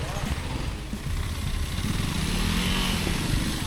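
A Kawasaki KLX 230 dirt bike rides off-road, its single-cylinder engine giving a close, continuous rough drone over wind noise, with a rider's voice faintly present.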